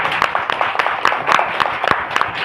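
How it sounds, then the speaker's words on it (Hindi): A church congregation claps along in a dense, continuous patter of many hands, with sharper individual claps standing out through the mix at a steady moderate loudness. "आप अपने आप को जितना समझते हो उतनी अच्छी ताली बजाओ"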